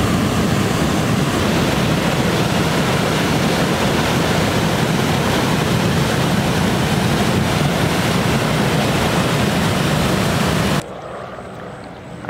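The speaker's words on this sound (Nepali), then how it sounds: "तपाईले देखिरहनु भएको छ यो मनोहरा खोला हो" The flooded Manohara river along the Kathmandu–Bhaktapur border rushes in a loud, continuous roar of turbulent water for most of the span, then cuts abruptly to a much quieter hush near the end.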